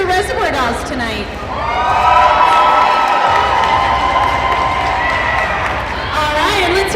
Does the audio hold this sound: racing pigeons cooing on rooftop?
no